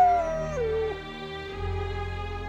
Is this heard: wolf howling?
yes